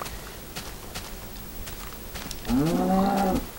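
Tiny cows in the Minecraft video game give a single drawn-out, rising moo near the end, loud and close over a low background hiss.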